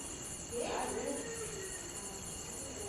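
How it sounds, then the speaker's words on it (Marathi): Crickets chirping at night in the dark countryside, a steady high-pitched trilling drone under a brief murmur of a voice. "रातकिड्यांचा आवाज येतोय का?"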